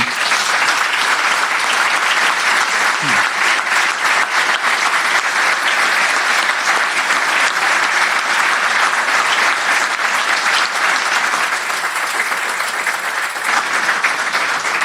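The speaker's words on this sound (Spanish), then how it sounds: "fundamentalmente para los que pido un aplauso especial es para los excombatientes de Malvinas" Dense, sustained audience applause rings out for Malvinas veterans at a book presentation, loud and steady for the whole stretch with no speech over it.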